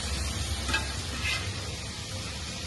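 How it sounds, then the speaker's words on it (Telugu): Vegetables frying in a pan for millet noodles, a soft continuous sizzle with a couple of brief stirring scrapes, quiet and close with no talking. "ఇలా అన్నీ వేసుకొని వేయించుకోవాలి"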